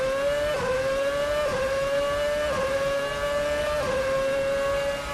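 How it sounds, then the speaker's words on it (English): A VRC F2007 race car in Assetto Corsa holds a loud, sustained high engine whine downhill toward Eau Rouge, with several quick gearshift dips as it climbs through the gears to 7th. "Down the hill here, popping 7th gear before Eau Rouge"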